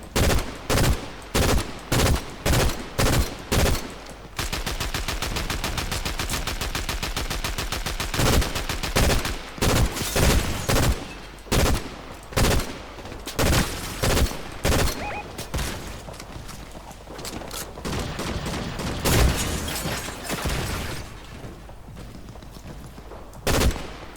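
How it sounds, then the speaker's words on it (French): Gunfire in Fortnite Chapter 7 (Season 3), with rapid bursts of loud, close shots and sustained automatic volleys, broken by brief gaps and continuing throughout. "Ça tire sur le pont, là-haut."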